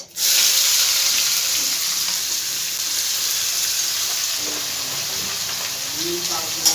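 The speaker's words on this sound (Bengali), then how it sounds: "পেঁয়াজটাকে খুব ভালো করে আমি ভেজে নেব" Grated onion fries in hot oil with whole spices, a dense continuous hiss of sizzling that starts abruptly and holds steady, loud and close, with faint clatters near the end.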